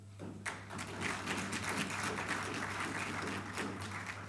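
Applause in a parliamentary chamber, a dense steady patter of clapping from many members lasting throughout, with a constant low hum beneath.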